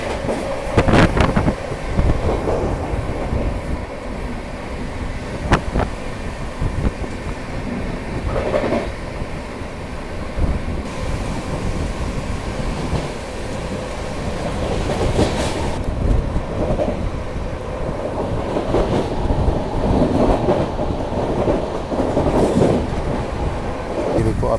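The Prayagraj Humsafar Express runs on rails, a sustained rumbling roar with rhythmic clickety-clack and occasional sharp wheel clunks heard from inside the moving coach, with faint voices in the background.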